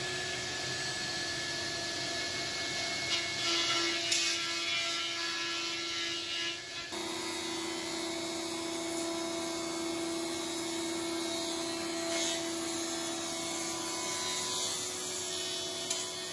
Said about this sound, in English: we'll get those run through the planer thicknesser